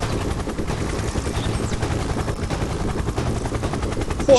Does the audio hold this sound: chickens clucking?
no